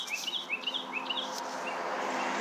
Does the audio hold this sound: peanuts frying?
no